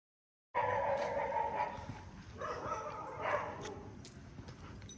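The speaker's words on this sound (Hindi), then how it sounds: "ये कुत्ते भौंक रहे ना" Several dogs bark and yip at moderate distance outdoors, a cluster of overlapping barks starting abruptly and continuing in irregular bursts.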